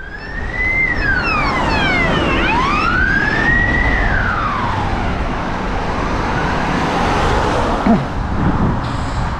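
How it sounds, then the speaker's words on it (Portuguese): Two Operação Verão ambulances pass with wailing sirens, rising and falling loudly over steady road rumble while descending a hill toward the ferry crossing. "Essas são as ambulâncias da Operação Verão."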